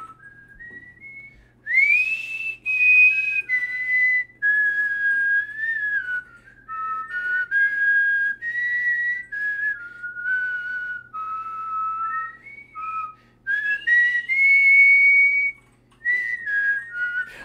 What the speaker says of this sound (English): whistling like an absolute hero